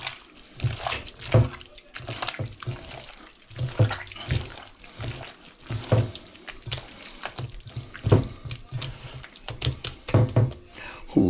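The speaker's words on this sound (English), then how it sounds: "I'm going to mix all that together" Leftover breakfast fritter batter gets mixed by hand in a bowl, giving irregular wet squelching and slapping sounds in uneven bursts, fairly close and moderately quiet.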